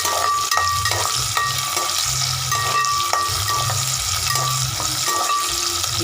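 Small sambar onions sautéing in a pan for a curry, a steady close sizzle with rhythmic scraping and stirring strokes repeating throughout, no voices.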